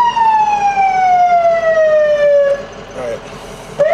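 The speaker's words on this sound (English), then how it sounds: "if we engage our siren horn" A loud electronic siren wail from a 2004 Ford E450 sweeps slowly downward in pitch, then cuts off and briefly chirps again; steady and close, with no talking over it.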